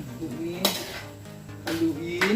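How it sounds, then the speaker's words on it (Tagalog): Metal utensil clanks and scrapes against a pan while beaten egg is quickly stirred into fish sarciado, a few sharp clinks over a soft background hum. "At mabilisan itong haluin."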